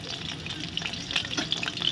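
Butter garlic chicken frying on a high flame crackles and sizzles steadily up close, with small spattering pops growing busier toward the end.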